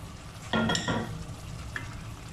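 Peeled boiled quail eggs frying and being stirred in spicy masala in a pan, a steady close sizzle with a few sharp scraping stirs near the start.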